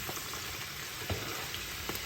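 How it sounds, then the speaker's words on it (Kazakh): Mushrooms fry in a pan as Korean-style mushrooms are cooked, giving a steady, soft sizzle with a few faint stirring taps. The sound is close, continuous and fairly quiet, with no voices. "Саңырауқұлағымызды жақсылап қуырамыз"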